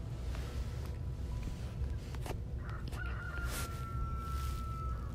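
Cartoonish chicken clucks and honking squawks from the mobile farming game Egg Inc, repeated over a steady bed of game music and ambience at moderate level.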